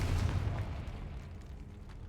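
A Confringo explosive spell goes off in Hogwarts Legacy, giving a loud low rumbling blast at the start that settles into a sustained fading roar.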